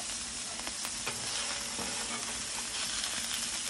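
Smash burger patties sizzling hard on a hot griddle, a steady loud frying hiss with scattered pops and scrapes of a spatula flipping them, continuous and close with no talk.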